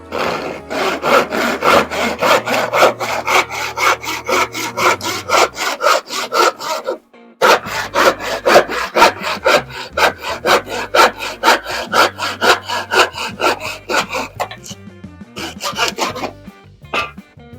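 A freshly sharpened hand saw cuts through wood in steady, loud back-and-forth strokes, pausing briefly midway and then resuming at the same even rhythm before slowing near the end.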